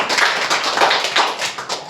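Schoolchildren in a sixth-grade science classroom burst into a short round of applause, a dense patter of many small hands clapping together for a couple of seconds, close and lively.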